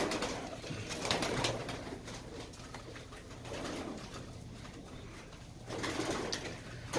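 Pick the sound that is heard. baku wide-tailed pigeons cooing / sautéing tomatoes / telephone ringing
baku wide-tailed pigeons cooing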